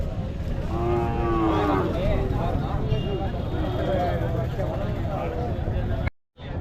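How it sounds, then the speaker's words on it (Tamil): Cattle and calves low and moo at a busy livestock market in Matrapalli, with drawn-out calls rising over the crowd's background murmur while people talk nearby. "மாடும் கண்ணும் கொண்டு வந்திருக்காங்க"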